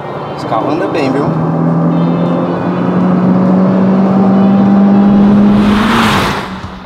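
A Peugeot 208 GT being driven hard on a race track, its engine droning steadily at high revs and rising in pitch before a loud rushing pass, with a voice faintly over it early on.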